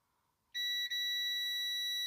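A multimeter on continuity test gives a loud, sustained electronic beep that starts abruptly after a quiet moment and holds steady, dipping for a split second, while probes touch points on a TV remote's circuit board.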